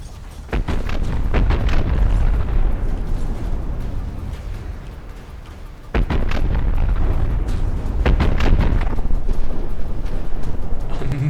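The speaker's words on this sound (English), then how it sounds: "Constant small explosions." Small explosions in a SteamPunk robot fight, where heavy booms and crackling blasts come in clustered bursts over a constant rumbling roar, loud and close, with a sharp detonation midway.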